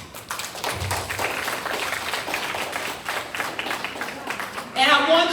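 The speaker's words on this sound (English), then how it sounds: "I also want you to give your parents an applause." A teen girls summit audience in Orangeburg, South Carolina, applauding their parents, a sustained patter of many hands with crowd voices under it that swells louder toward the end.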